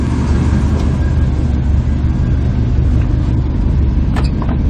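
Pickup truck driving, a loud continuous engine and road rumble filling the cabin, steady throughout with a few faint higher clicks near the end.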